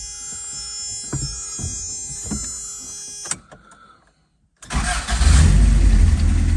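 Pre-runner truck engine idling and revving close by, with an electrical whine and clicks, a brief near-silent gap, then a loud, rough low roar as it starts and runs.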